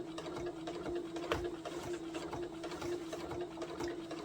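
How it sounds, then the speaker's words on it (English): A sewing machine stitches along the edge of a fabric skirt, running in a steady, fast, even rattle with a humming motor tone, close by and with no one talking. "I'm sewing fairly close to the edge."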